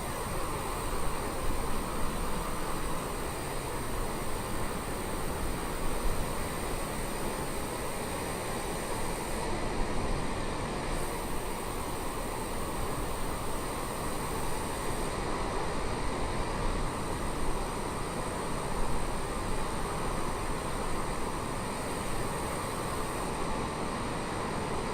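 Steady HondaJet engine drone heard from the cabin while cruising at high altitude in Microsoft Flight Simulator, a constant broadband roar that holds level throughout with no talking.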